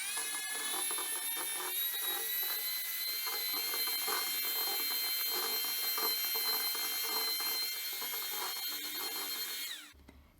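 An electric hand mixer creams butter with powdered sugar, a steady high whine with a faint rattle that runs continuously and then cuts off abruptly near the end.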